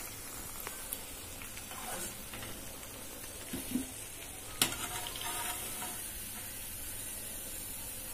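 Bread pakoda frying in oil, a continuous soft sizzle with occasional pops and scraping clicks, fairly quiet and steady, no voices.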